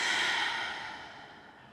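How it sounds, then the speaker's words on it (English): A long, slow exhale through the mouth during a yoga cool-down, a soft breathy rush that starts full and gradually fades away, heard alone with no talking. "Exhale through the mouth, let it go."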